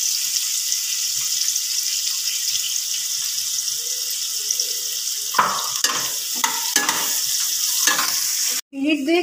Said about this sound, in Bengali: মিনিট 2 পেঁয়াজ রসুনটা ভাজার পরে সুন্দর একটা গন্ধ বেরোয়।